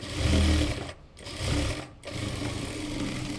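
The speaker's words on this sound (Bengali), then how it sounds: "আপনারা এইভাবে চাপ সেলাই দিয়ে বসিয়ে নেবেন কুচিটি" A sewing machine runs in three close bursts with two brief pauses between them, its fast mechanical whir stitching down pleats on a small child's fatua, with no voices.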